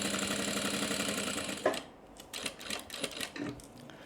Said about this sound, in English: remembering to backstitch at the bottom